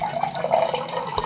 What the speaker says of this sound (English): Just rinsing the same glass